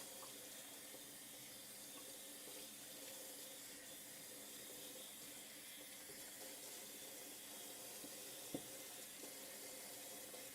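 A kitchen faucet runs steadily while dishes are washed, a constant hissing splash of water into the sink, with one brief clink partway through and no voices.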